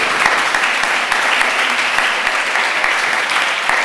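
A church congregation at a Sunday worship service applauds steadily, a dense, loud wash of clapping that holds evenly throughout with no pause.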